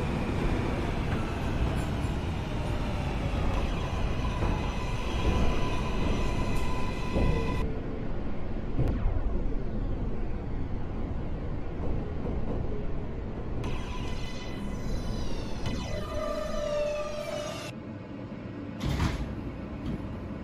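Kawasaki R143 subway train in OpenBVE rolls along a BMT line toward Coney Island, a continuous loud rumble of wheels and motor whine, with pitched tones shifting as it runs and brakes.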